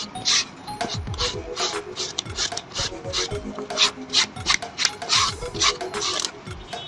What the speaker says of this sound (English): I will use my sandpaper and brush this place out